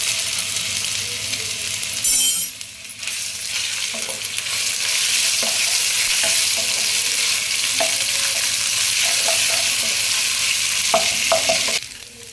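Ginger garlic paste frying among golden brown onions in a pan, cooking for an egg biryani, gives a steady close sizzle throughout, with occasional stirring clinks and scrapes and a brief louder burst near the start.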